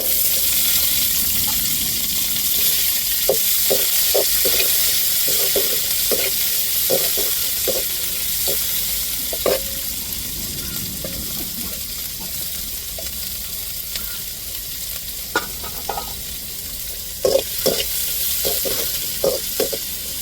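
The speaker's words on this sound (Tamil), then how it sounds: "வெங்காயத்தையும் சேர்த்துக்கிடுவோம்" Onion frying in a pan for a Tamil fasting meal, a constant loud sizzle with a spatula scraping and tapping the pan in irregular bursts, close up and without talk.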